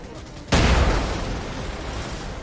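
Shot gas canisters blow up in the game Raid: World War 2, a sudden loud blast that rings out and decays over the following two seconds.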